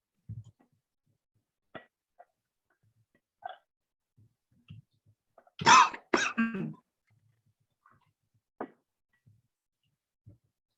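Scattered quiet sounds lead up to a cluster of harsh, close coughs in the middle, followed by a few faint throat noises in near silence.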